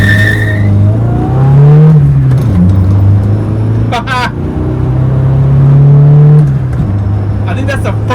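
A Honda Civic EG hatchback with a freshly swapped used transmission launches hard, its engine revving up loudly and steadily before a brief dip for the shift into second gear, then climbing again, with some tyre scrabble and voices underneath.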